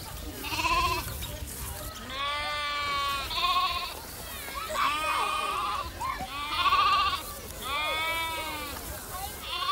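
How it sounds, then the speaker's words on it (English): Baby lambs bleat repeatedly, close and loud, while being bottle-fed milk. Their cries overlap in wavering calls, with short pauses and soft background noise between them. "These baby lambs are being fed with milk."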